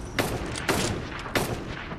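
Three sharp gunshots in a Fortnite squads match, roughly evenly spaced, loud and close with brief decaying tails over faint background game ambience.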